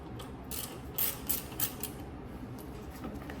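Bolts are being worked loose from the rear fender of a Ducati motorcycle with a hand tool, giving quiet close-up ratcheting clicks and mechanical creaks, a few sharper taps in the middle, with no talking.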